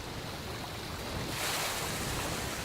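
Steady rushing water of a waterfall in the video game Obduction, a broad continuous roar that swells louder midway through, heard alone without talk.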